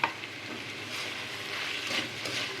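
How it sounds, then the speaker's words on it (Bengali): Small pieces of meat frying in a pan, giving a steady close sizzle with light scraping and stirring noises and no talk. "মাংসটা দিয়ে ভেজে নেব।"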